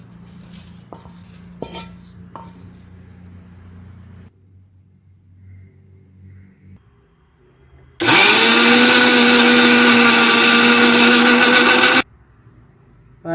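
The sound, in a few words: mixer grinder grinding roasted coconut into paste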